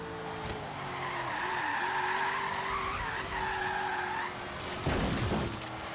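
Tires skid and squeal loudly on a Ford Falcon XE racing in Forza Horizon 3, a long wavering screech over steady engine drone, broken briefly before a sharper burst near the end.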